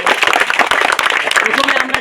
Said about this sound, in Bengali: আরও একবার আমরা হাততালি দিয়ে